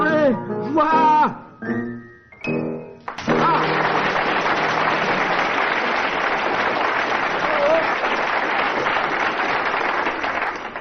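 A sudden burst of studio audience applause on a British radio comedy panel show, breaking in loudly after a few seconds of voices imitating animal sounds and then holding as a dense, steady roar of clapping to the end.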